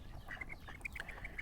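A mandarin duck calling in a series of short, high, thin whistling notes, several quick calls spaced irregularly over a low background hum, fairly close.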